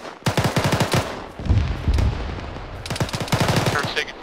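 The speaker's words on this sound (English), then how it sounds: "That's an auto cannon on it." Rapid bursts of heavy automatic cannon fire from a vehicle-mounted autocannon in the game Arma (ShackTac), several volleys of booming shots with short pauses between them.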